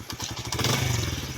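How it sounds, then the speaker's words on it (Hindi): A motorcycle being started in a village setting: a brief clatter and thump, then the engine catches into a steady, close, loud idling putter that holds to the end. "चल मैं मोटरसाइकिल स्टार्ट कराना पिया"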